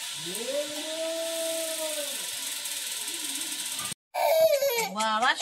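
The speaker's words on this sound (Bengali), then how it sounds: "কি এত কান্নাকাটি কেন হচ্ছে?" A child cries in long, wavering wails that rise and fall, loud and close, breaking off briefly before resuming in sobbing bursts.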